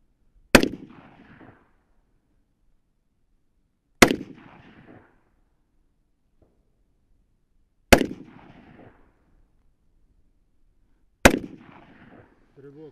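Rifle shots at an outdoor shooting range, four sharp loud cracks spaced a few seconds apart, each followed by a short echoing tail and silence between.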